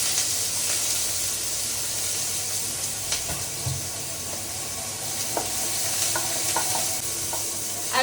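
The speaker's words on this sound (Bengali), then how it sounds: "এদিকে তেল দিয়ে দিয়েছি ডালটা সাতলানোর জন্য লঙ্কা দিচ্ছি রসুন দিচ্ছি আর দিচ্ছি পেঁয়াজ দিচ্ছি" Chili, garlic and onion sputter in hot oil for a dal tempering, a dense continuous sizzle with occasional sharp crackles and spatula scrapes, close and fairly loud, with no one talking.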